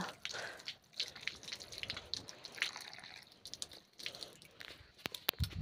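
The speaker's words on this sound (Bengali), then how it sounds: "তো চলো এখন আমি হাতটা ধুয়ে নিই। এখন এর জলটা না প্রচণ্ড ঠান্ডা।" Hands are washed outdoors under very cold water, with faint splashing, dripping and rubbing sounds, quiet and intermittent with a few sharper drops near the end.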